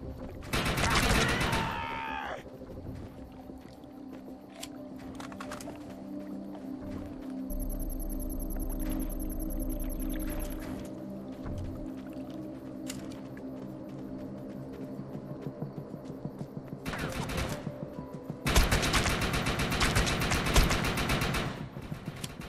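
Assault rifle fire in the Defiance 2050 video game: loud bursts of rapid gunfire at the start and again near the end, with a steady droning hum and quieter game sounds between them.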